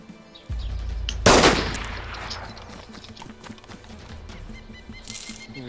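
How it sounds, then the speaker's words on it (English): Gunfire in the video game DayZ: a loud, close burst of shots with a long booming tail that rolls and fades over several seconds, followed by fainter scattered reports and low rumbling, no talk. "somebody was shooting at me"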